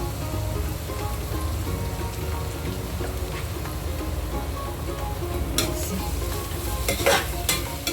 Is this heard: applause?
no